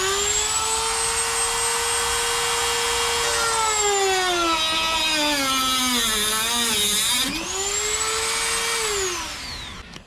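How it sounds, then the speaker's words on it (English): Dremel rotary tool fitted with an EZ Lock metal cutting blade, a loud sustained high whine that dips in pitch as it bites into metal and then rises again, close up with no speech. "the Dremel with a rotary tool. Easy lock cutting blade for metal."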